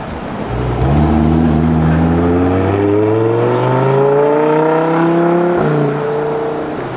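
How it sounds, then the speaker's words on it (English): A Lamborghini sports car engine revs hard as it sweeps past, its pitch climbing steadily, then dropping with a shift before fading slightly. It is loud and close, with no voices. "that's the engine noise I want"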